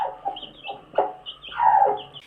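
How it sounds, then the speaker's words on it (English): A mother hen sitting on her eggs gives soft, light cooing clucks to her unborn chicks, a few short near murmurs rising to a longer warbling call, with no voices. "They make a light little cooing sound to the unborn baby chicks"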